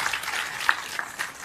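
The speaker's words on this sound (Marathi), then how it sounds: "जोरदार टाळ्या वाजवा माझ्या बंधू भगिनींना" Applause from an audience at a Marathi award ceremony, a steady dense patter of many hands clapping at moderate volume, with a few sharper individual claps standing out.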